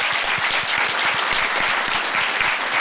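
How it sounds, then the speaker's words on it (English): Dense, steady applause from a debate audience, many hands clapping together at even loudness throughout, with no voices over it. "definitely a special round of applause for Gareth Humphreys"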